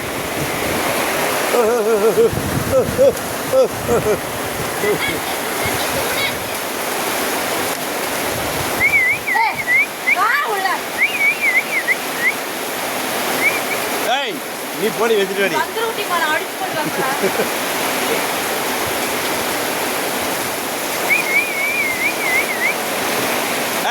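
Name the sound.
Courtallam waterfall rushing water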